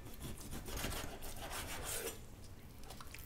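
A knife rasps and saws through a raw pork loin, splitting it lengthwise before smoking on a Weber Smokey Mountain; a close, continuous scraping cut runs alone for a few seconds.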